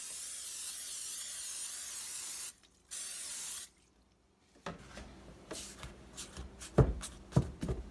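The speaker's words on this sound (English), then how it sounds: "I'm just going to spray this." Two short bursts of spray hiss coating a baking pan for quick bread, separated by a brief pause, then a quiet gap followed by rustling and handling noises.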